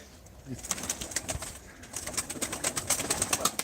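Soft pigeon cooing and rustling nearby at a live pigeon auction, with repeated sharp clicks and flutters, fairly quiet throughout.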